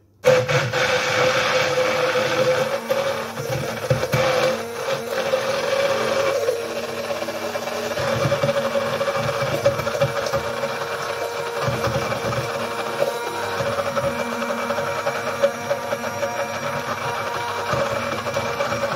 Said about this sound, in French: Et avec le mixeur, on va lier notre insert.